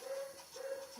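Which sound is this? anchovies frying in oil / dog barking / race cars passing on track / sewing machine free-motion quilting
dog barking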